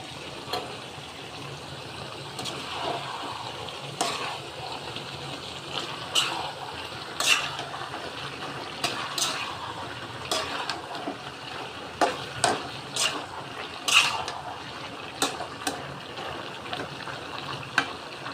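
Water goes into a pan of fish curry made with hilsa and bottle gourd, giving a low sizzling wash of liquid over hot oil, with occasional scraping stirs and small splashes at a moderate, close distance.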